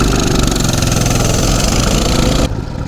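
A Coleman CT200U mini bike engine runs loud and close with a steady, buzzy putter, then its sharper high edge drops away near the end as the note softens.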